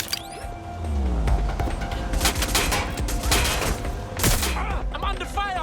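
Sustained gunfire in the video game Watch Dogs: Legion, with rapid bursts of shots and mechanical clatter layered over an electronic score, loud and continuous, alongside a few ricochet-like whistles.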